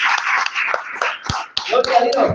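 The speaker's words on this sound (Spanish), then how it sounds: "Dale un aplauso al Señor" Church congregation clapping for the Lord during a service, scattered hand claps and shuffling amid a loud voice speaking over them, brief and close.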